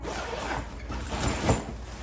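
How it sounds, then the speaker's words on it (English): An expandable travel bag's zipper rasps in a couple of quick pulls, fairly close and quiet, with no talking. "on the back, I have zippers that expand the bag"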